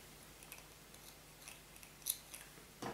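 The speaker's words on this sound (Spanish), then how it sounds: "ya cortamos el hilo" Scissors snip through crochet yarn while finishing a crocheted bag strap, a few quiet, crisp cuts spread across a hushed room with no talking.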